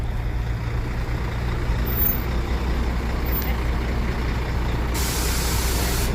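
A Volvo truck in a fairground ride convoy in Aix-en-Provence idles with a steady low rumble, then lets out a sharp, loud hiss of air brakes near the end, outdoors and close by.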